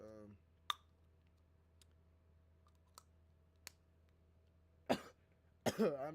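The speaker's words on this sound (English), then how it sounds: "Sorry for coughing in your guys' ears." Several sharp coughs, close and fairly loud against a quiet room hum, come as isolated bursts with a double cough at the end, from a streamer at a microphone during a game session.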